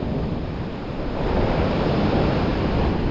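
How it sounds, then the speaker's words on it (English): Northwest wind blowing across an open beach while surf fishing, a steady close rush of wind buffeting the microphone over the constant wash of breaking surf, growing slightly stronger partway through. "We got like a northwest wind right now."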